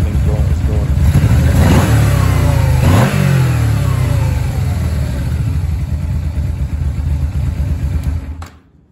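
A Yamaha VMax motorcycle engine runs loud and close, swelling into a couple of quick revs early on before dropping back to a steady idle, then cutting off abruptly at the end.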